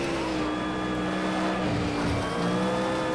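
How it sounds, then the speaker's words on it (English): A GT1 race car in Project Cars 2 at Donington Park roars steadily at high revs during a race, its engine tone holding and shifting slightly in pitch throughout a short, continuous stretch. "It's so powerful, the car."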